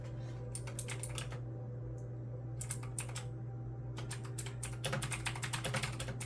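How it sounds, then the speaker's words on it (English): Bursts of fast typing on a computer keyboard, close and crisp, come in several clusters separated by pauses, over a low steady hum and quiet ambient music in the background. "you may hear me typing over here off to the side"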